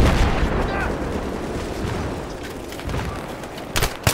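Video game gunfire in a vehicle battle, rumbling continuous shots and blasts through a noisy mix, with a couple of sharper cracks near the end.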